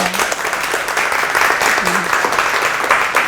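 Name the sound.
audience applause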